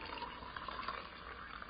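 Melted homemade organic ghee poured from a bowl into pint glass jars, a quiet steady trickling stream of liquid running close by with no talking.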